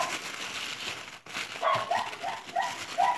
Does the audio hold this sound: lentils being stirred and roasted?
no